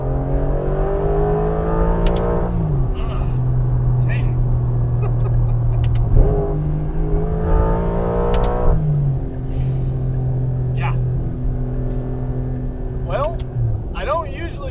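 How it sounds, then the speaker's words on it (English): A Porsche 992 GTS fitted with a Soul Performance exhaust revs repeatedly, its engine note climbing and falling in several pulls, loud and close, with people talking over it. "it's more connected now with the sound because you're really hearing what the engine's actually doing"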